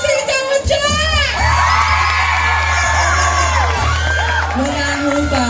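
A crowd at a school event in the Philippines yells and whoops loudly, with children's shrill shouts rising and falling over a steady low hum.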